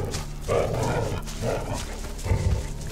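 A dog in the video game ELEX barks and grunts a few times in short bursts, with a steady low background hum behind it.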